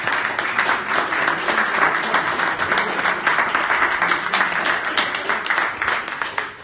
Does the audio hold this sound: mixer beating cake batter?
no